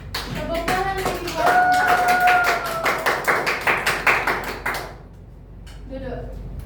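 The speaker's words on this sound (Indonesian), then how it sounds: "Tepuk tangan lagi" Classroom applause from a group of students during a microteaching lesson on the human sense of hearing, a burst of quick claps lasting a few seconds alongside a sustained sung or spoken tone, then fading into quieter room sound.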